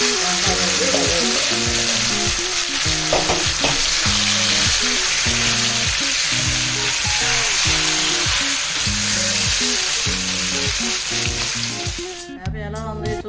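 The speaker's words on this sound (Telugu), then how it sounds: "ఇప్పుడు నింపుకున్న వంకాయ బజ్జీని ఈ తాలింపులో వేసుకున్నాము. బాగా కలిపి వేసుకొని 25 సెకండ్లు వేసుకుంటే చాలు." Stuffed brinjal bajji fries in an oil tempering, a dense continuous sizzle up close, with a rhythmic, repeated mechanical whirring pattern running underneath until it cuts off near the end.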